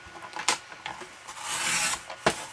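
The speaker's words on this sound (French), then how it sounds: "j'ai repris mon vieux massicot" An old paper trimmer cuts card with a few sharp snips and a longer rasping slide of the blade, close and fairly quiet.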